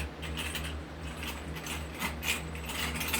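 A screwdriver drives screws into the frame of a mining rig built with eight Zotac 3060 graphics cards, giving a steady run of close, dry ratcheting clicks over a low constant hum.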